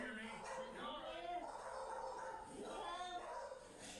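Dogs, a golden retriever among them, give a few short yips and whiny barks close by at moderate volume, mixed with soft whimpering.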